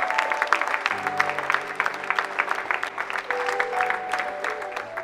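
A church congregation at a worship service applauds to acclaim the Lord, giving steady, dense clapping throughout with a sustained musical tone underneath.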